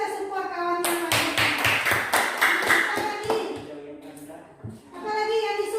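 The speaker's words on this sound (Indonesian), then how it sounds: "Ayo tepuk tangan, kasihlah semua kawan yang lain" Children in a classroom clap in a quick burst of about a dozen sharp, near claps. A voice speaks before and after the clapping.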